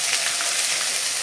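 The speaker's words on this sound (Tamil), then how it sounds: "கடுகும் சீரகமும் நல்லா பொரிஞ்சதும்" Mustard and cumin seeds spluttering in hot oil for a Tamil fish kuzhambu, a steady close, even crackling sizzle with no pauses.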